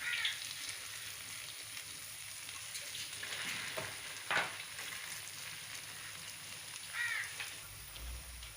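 Dahi vada dumplings fry in hot oil with a soft, steady crackling sizzle, fairly quiet and continuous, with a few brief louder pops and clinks along the way.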